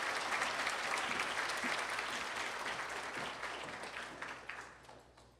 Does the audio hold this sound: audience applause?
yes